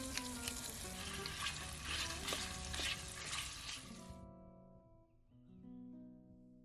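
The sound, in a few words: pork rib and drumstick chunks frying gently in olive oil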